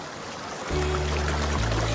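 Steady rushing water flows out of a cave and pours continuously, a broad constant wash that grows louder partway through, with no voices.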